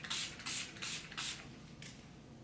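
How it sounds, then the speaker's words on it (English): Urban Decay setting spray misted onto a face in five or six quick, soft pumps, each a short airy hiss, close and faint, with a slightly longer gap before the last spritz. "now I'm just gonna set it with the Urban Decay setting spray"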